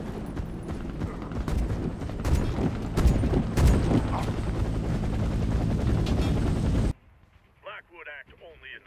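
Loud helicopter rotor roar in the video game Warface, with booming blasts and gunfire-like bursts, cutting off abruptly to near silence with a voice speaking.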